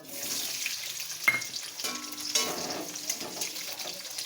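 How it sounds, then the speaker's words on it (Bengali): A bowl of chopped onions fries in hot oil with cardamom, cloves and cinnamon, a close, steady sizzle broken by a few sharp clinks and stirring scrapes. "পেঁয়াজটা একটু লাল লাল করে ভেজে নেব।"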